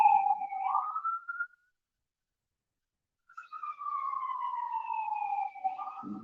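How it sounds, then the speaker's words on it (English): Police sirens wailing outdoors, a rising and falling tone that cuts out briefly, then returns as a long steady sweep, fairly loud with no talk over it. "Y'all hear them sirens."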